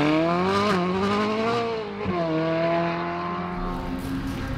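Ferrari 458 Italia accelerating hard on a race track, a loud, close engine wail climbing through the gears with two brief dips at the shifts, then holding a high, steady howl.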